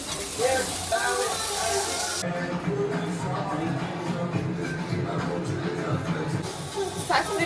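Sausages sizzle on an indoor electric pan grill, a steady close hiss and crackle running throughout, loudest at the start, with faint rustling in the background.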